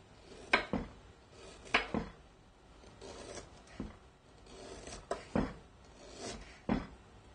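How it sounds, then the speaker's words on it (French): Knife chopping fresh ginger finely on a board, a few distinct sharp taps spaced irregularly with soft scraping between, close and fairly quiet. "coupez le gingembre très finement"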